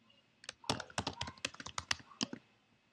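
A quick burst of typing on a computer keyboard, about a dozen close, crisp key clicks in an irregular run lasting around two seconds in a quiet room.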